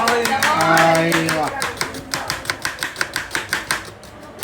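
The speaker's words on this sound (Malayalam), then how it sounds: "ഉള്ളി അരിയുന്ന വിദഗ്ധനാണ്" A knife chops onions on a board in a steady run of quick, crisp strokes, following a stretch where a voice talks over kitchen noise.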